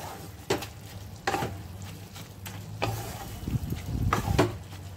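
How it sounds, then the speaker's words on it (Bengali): Pointed gourd in hot mustard oil sizzles softly while a utensil scrapes and taps against the pan in a few stirring bursts, growing busier toward the end. "তারপরে অল্প নাড়াচাড়া করব।"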